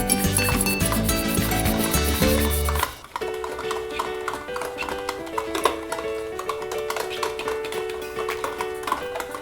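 Potato Manchurian mixture with salt, pepper and garam masala being mixed by hand in a bowl, soft rhythmic taps and squishes, close and moderate, under background music.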